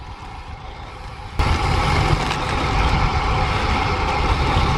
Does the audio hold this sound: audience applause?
no